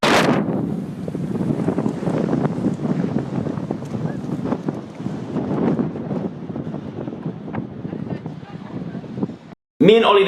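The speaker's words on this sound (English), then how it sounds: "but there's also a lot of frickin' wind." Strong wind at a rocky South African coast roars steadily into the microphone for nearly ten seconds, loud and buffeting, then cuts out briefly before a sharp gust returns.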